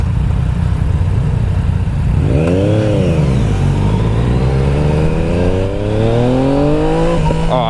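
A 2017 Yamaha FJ-09 motorcycle engine revs up and down while riding, loud and close, with rising and falling tones over steady wind rush and exhaust pipe drone.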